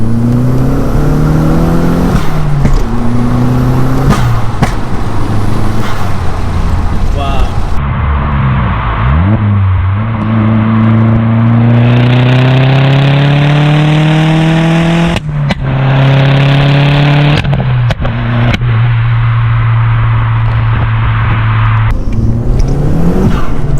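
An Audi S3 pulls hard in third gear on a night road, engine note climbing steadily in loud repeated sweeps with brief lifts between, close and dominant over the cabin.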